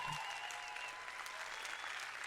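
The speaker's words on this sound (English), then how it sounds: "clap that up" Brief burst of audience applause during a financial podcast, a fairly faint, even wash of clapping lasting a couple of seconds with no clear speech on top.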